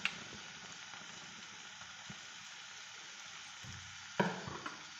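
Tomatoes dropped into hot oil in a pan for Indian-style macaroni pasta, with a soft continuous sizzle, a few light clicks and a brief louder clatter of stirring near the end.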